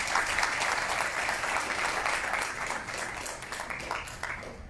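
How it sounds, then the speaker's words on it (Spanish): Audience applause at a public discussion on adequate housing, welcoming a community human rights defender, a steady, moderately loud crowd clapping that eases slightly toward the end, with no voices over it. "Un fuerte aplauso, por favor."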